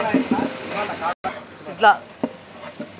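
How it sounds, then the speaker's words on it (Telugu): Onion paste, green chili and ginger paste roast in a pan with a soft sizzle, broken by a few scraping stirs, while someone talks briefly over the cooking. "ఉల్లిగడ్డ, పచ్చిమిర్చి, అల్లం పేస్టు, ఉల్లిగడ్డ పేస్టు ఇట్లా రోస్ట్ చేసుకోవాలి."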